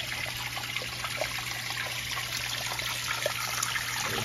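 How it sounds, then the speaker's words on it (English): Water streaming from the outlet of a Fluval 307 canister filter into an aquarium, a steady close trickling and bubbling wash over a constant low motor hum. "And water movement carries to the other side of the tank, too."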